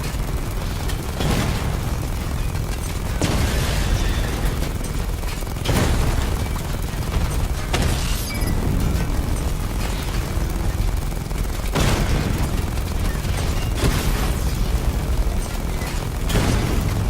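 Missile barrage explosions from Batman Arkham Knight, a dense continuous roar of booms and blasts with several sharper bursts landing every couple of seconds, loud and sustained throughout with no voices.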